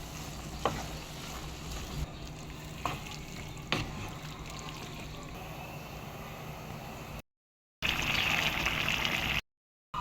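Tomatoes and spices fry in a pan for shawarma, giving a steady, close sizzle with occasional sharp pops and stirring clatters, followed by brief louder bursts of hissing.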